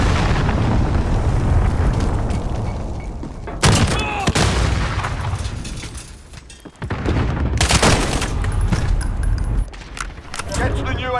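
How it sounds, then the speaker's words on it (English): Explosions and booms from an allied cruise missile strike in Call of Duty: Modern Warfare, loud sharp blasts near 4 and 8 seconds over constant dense game din of gunfire and rumble. "Allied cruise missile away."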